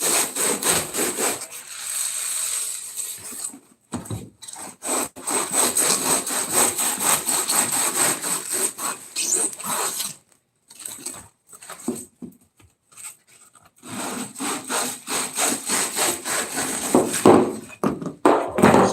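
A cast skeleton skull mold is trimmed and cut by hand, giving rhythmic, rasping back-and-forth sawing strokes in close bursts separated by short pauses.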